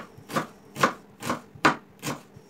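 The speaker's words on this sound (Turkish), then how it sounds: "İç harcı için bir tane soğanı yemeklik doğruyorum küp küp." Knife chopping an onion into cubes on a cutting board, five evenly spaced crisp cuts about half a second apart, close and clear with no talking.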